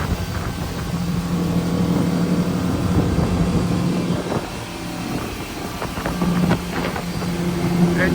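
A 2024 Supreme S240 motorboat's engine drones steadily at moderate loudness while turning at about 25, its pitch shifting a little as the boat turns, with wind and water noise throughout.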